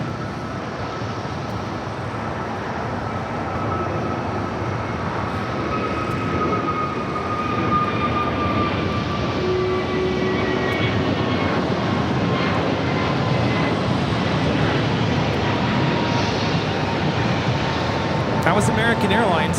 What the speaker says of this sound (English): That was American Airlines 206 taking off to Dallas-Fort Worth on an A321neo